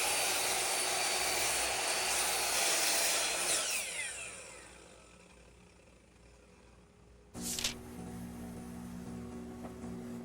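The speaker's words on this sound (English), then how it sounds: "The joiner makes squaring the edge of these boards quick and easy." A woodworking jointer runs loud and steady while squaring the edges of wooden boards, the cutting roar fading toward a quieter idle before a brief bump and renewed machine hum.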